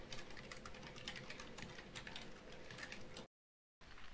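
Keys clatter in quick, steady typing on a Logitech G915 keyboard with linear switches, faint and close, breaking off briefly into silence near the end.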